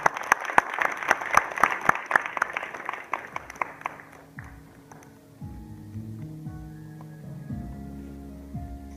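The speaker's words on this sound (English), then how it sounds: "Can we all just give them a round of applause again?" An audience at a justice center gathering claps in a dense burst of applause that fades out over about four seconds. Faint crowd murmur and voices follow afterward.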